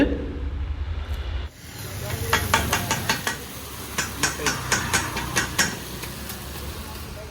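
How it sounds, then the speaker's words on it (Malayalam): Kothu parotta chopped and mixed on a hot griddle in Kollam, with a steady sizzling hiss and a run of sharp metallic clanks in quick rhythm, fairly close and loud. "ഈ കുത്തു പൊറോട്ട ഇട്ട് ഇങ്ങനെ കുത്തുന്ന ആ ഒരു ഐറ്റം എടുത്തിട്ട് നല്ല രീതിയിൽ അത് മിക്സ് ചെയ്യുന്ന പ്രോസസ്സിംഗ് ആണ് ഈ നടന്നുകൊണ്ടിരിക്കുന്നത്"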